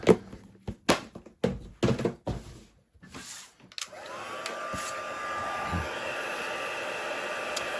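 A heat gun runs steadily to melt embossing powder on a stamped image for a blue Cheshire Cat card, a continuous blowing whoosh that starts after several handling knocks and taps and holds at an even level to the end.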